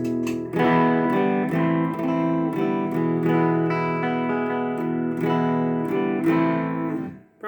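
Electric guitar played through an EQ pedal, sustained distorted chords rung out one after another, loud and alone, fading away at the end.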